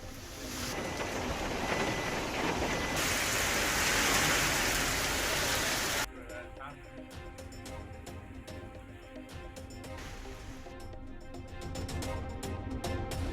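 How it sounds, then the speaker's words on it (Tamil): Heavy rain falls in Ooty and the surrounding area, a dense, loud, steady downpour hiss that shifts in intensity partway through as the scene changes, with no voices over it. "உதகை மற்றும் சுற்றுவட்டார பகுதிகளில் சுமார் 1 மணி நேரத்திற்கு மேலாக இடியுடன் கூடிய கனமழை."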